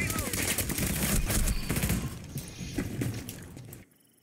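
Loud, rapid hip-fire gunshots in Rainbow Six Siege, a dense close burst of shots that thins out and stops abruptly near the end.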